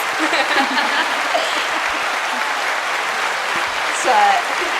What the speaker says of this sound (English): Deserves the claps.